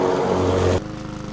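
A PowerSmart 22-inch self-propelled gas mower drones loudly as it works through medium tall grass, its steady engine hum dropping off abruptly partway through.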